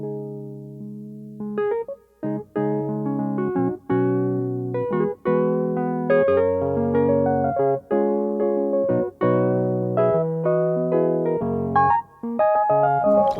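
A Yamaha Montage M8X synthesizer plays a Rhodes electric piano sound with an added effect, warm sustained chords and melodic runs ringing out close and clear with no talking.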